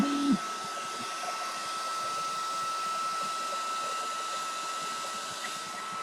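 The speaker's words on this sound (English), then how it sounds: "So let me blow dry it." A hair dryer blows at a steady, fairly loud level through the whole stretch after a brief click at the start, used for touching up a painted rabbit on a board.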